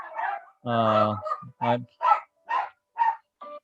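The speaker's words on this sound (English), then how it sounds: "so the dogs are barking, of course" Dogs bark in a home as someone arrives, several sharp loud barks in a quick irregular series while someone talks over and between them.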